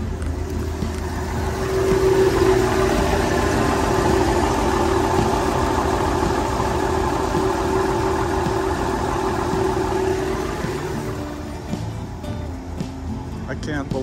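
A 1968 Ford F100 engine running on its original fuel tank: a steady, close mid-pitched hum with an even drone, while someone talks over it.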